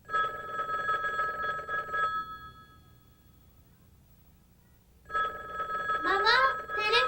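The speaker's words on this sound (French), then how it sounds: "Maman, téléphone." An indoor telephone bell rings in two bursts, a bright electronic trill separated by a few seconds of quiet, with a voice speaking over the second ring.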